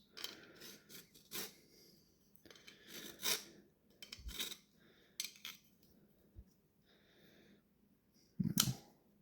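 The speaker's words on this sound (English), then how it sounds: "I'm going to see if I can just take a file and just sort of rest it in there and take off just a little bit of material" A metal file scraping material from a Buck 256 knife, heard as short, quiet rasping strokes with pauses between them, close by, with a louder scrape near the end.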